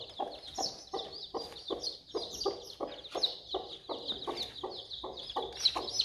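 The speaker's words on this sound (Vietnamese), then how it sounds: "Gà mà cứ để trong nhà như này thì làm sao mà được chứ ơi" Chickens cluck continuously indoors in a house, a steady stream of close, overlapping hen clucks with a bright chirping layer above, fairly loud and with no talk.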